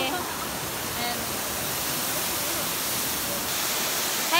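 Piduan Falls waterfall in Don Victoriano Chiongbian, Misamis Occidental, a dense, constant rushing roar filling the whole clip with no pauses, loud and close.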